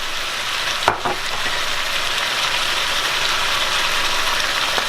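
Shrimp fried rice sizzling steadily in a hot pan with soy sauce and rice vinegar added, a loud continuous frying hiss with a brief clatter near the start.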